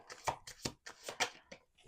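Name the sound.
shuffling a deck of cards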